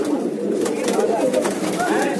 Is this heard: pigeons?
yes